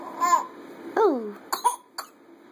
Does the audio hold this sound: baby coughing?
yes